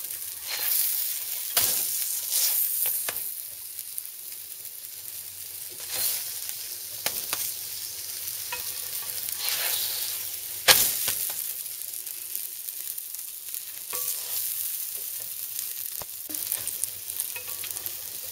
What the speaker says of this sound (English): Pan fry until golden brown.